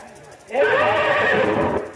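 A horse whinnies loudly for over a second in a staged folk-theatre scene, a strained, wavering cry that rises abruptly and holds before fading, likely a performer's voice imitating the neigh.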